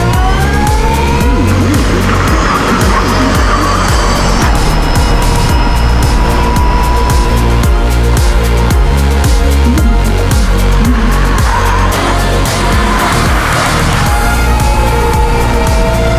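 Pack of race cars launching at the start of the Nxtgen Cup race at Falkenburg, a loud, dense roar of multiple engines revving and sweeping in pitch, continuous and close throughout.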